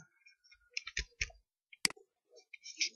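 A computer mouse clicks while someone uses the Cheat Engine program. A handful of sharp, close clicks come in uneven bursts over quiet, with no voices.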